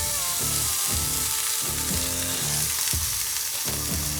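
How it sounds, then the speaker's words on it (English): Loud, steady sizzle of a tortilla with melting habanero and pepper jack cheese frying on a hot pan, a continuous close crackle with rhythmic scraping pulses underneath and no voices. "We're gonna melt our cheese."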